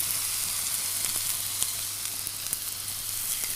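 A thick steak sears in a hot frying pan, giving a loud, steady sizzle that carries on without a break and with no voices over it.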